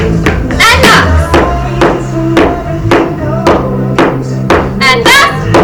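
Tap shoes knock out a quick, regular run of sharp, bright strikes in a beginner tap dance class, loud and close over backing music, with an instructor calling steps between the taps.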